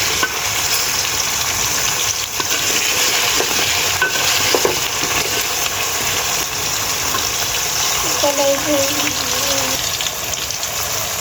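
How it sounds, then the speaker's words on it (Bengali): Potatoes and onions frying in a pan for biryani, giving a loud, continuous close-up sizzle with occasional faint scrapes and a brief tonal sound near the end. "আর পেঁয়াজটা ভেজে নিচ্ছি।"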